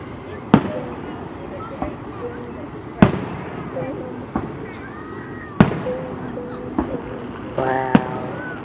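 Fourth of July fireworks burst over Chillicothe, about five sharp booms spaced a few seconds apart, with crackling tails and distant echoes and people talking and exclaiming between them.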